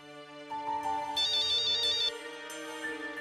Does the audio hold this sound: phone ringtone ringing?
yes